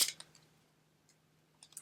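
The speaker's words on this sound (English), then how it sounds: "So we are going to cut the deck" A deck of playing cards is cut by hand on a table, giving soft, quiet clicks and rustles at the start and again near the end, with near silence between.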